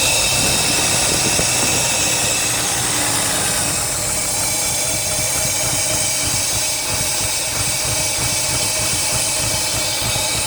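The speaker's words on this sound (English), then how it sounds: "it's idling fairly smoothly" A 1977 Mercedes-Benz 450 SEL 6.9 engine, smoking slightly and with a leaking fuel line, idles close by in a continuous low rumble with a faint uneven knock running through it.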